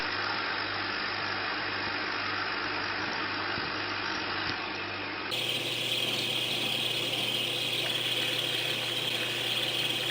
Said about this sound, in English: Here's what it sounds like to switch from an electric motor to a combustion engine in the same car.